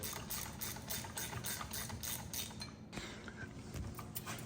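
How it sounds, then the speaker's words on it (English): Bolts being torqued on the chain tensioner of a Harley-Davidson Street Glide Special during a heavy-duty clutch job give a faint, steady mechanical clicking and ratcheting with a low hum, continuing throughout. "Nadal's torquing the bolts on the chain tensioner"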